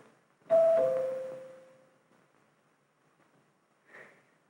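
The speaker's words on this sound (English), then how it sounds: "When the bell rang, I knew who it was." A house doorbell in a 1953 classic documentary gives a single bright chime that rings out and slowly decays over about a second and a half, followed by quiet and a faint short noise.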